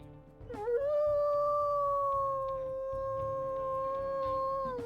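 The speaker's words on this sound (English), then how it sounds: "We'll go ahead, we'll also listen to her howls." A wolf in the WolfQuest video game gives one long, steady, high-pitched howl that rises at the start, holds level for about four seconds and fades, alone over a low ambient game soundscape.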